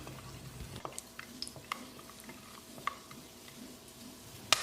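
Gentle stirring of whole spices (cinnamon, cardamom, cloves) frying in oil in a pan, soft sizzling underneath, occasional scraping taps and small pops, fairly quiet and close.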